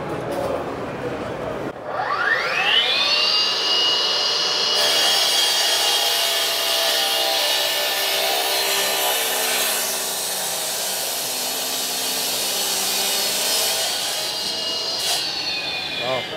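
A Makita battery-powered saw spins up and cuts at a busy outdoor equipment expo booth, giving a sustained high whine that holds steady for many seconds before cutting off, loud and close.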